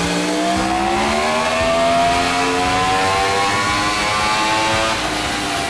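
A Yamaha R1 sport motorcycle revs hard on a dyno, its engine note climbing steadily in pitch through the gears, loud and close throughout with no pauses.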